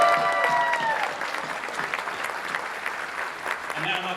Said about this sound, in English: So another round of applause for Ramey's birthday.